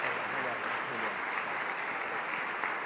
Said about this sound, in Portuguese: Queria que aplaudissem